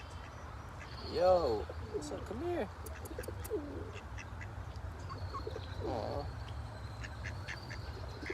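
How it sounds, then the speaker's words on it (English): Birds call and quack outdoors, with duck-like quacks and cooing pigeon or dove sounds mixed together, while a person talks over them at moderate distance. "Man, look at all these birds."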